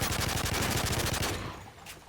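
Rapid bursts of video game gunfire, with flashbangs mentioned, crackle loud and close for over a second, then trail off into a quieter tail with one faint later burst.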